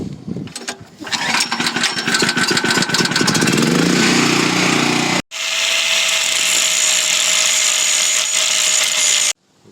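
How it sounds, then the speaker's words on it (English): An angle grinder grinds rivets off a two-wheel-drive truck frame, loud and close, starting with a rough chattering cut that settles into a steady high whine, stops abruptly, then runs again in a long continuous grind. "Got all the rivets ground down"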